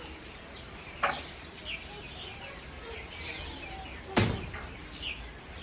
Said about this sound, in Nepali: चराको आवाज सुन्नु है